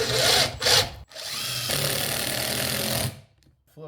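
A power drill drives screws into the wood of a mailbox post, with two short bursts followed by a longer sustained whir, then stopping abruptly.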